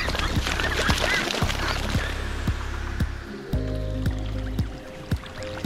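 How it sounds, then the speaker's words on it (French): Ducks on a foie gras farm quack in a group, with repeated calls over a constant background rush and a sharp close honk midway. "C'est un animal, le canard, qui aime se déplacer en groupe."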